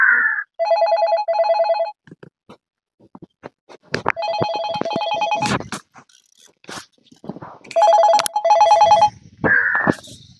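A mobile phone ringing: repeated bursts of an electronic ringtone, each about a second or more with short gaps, close and fairly loud, interrupted by crunching handling noises.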